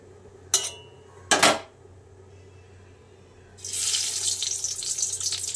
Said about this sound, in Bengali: এখন তেল গরম হয়ে গেছে, পটলগুলো ছেড়ে দেবো এক এক করে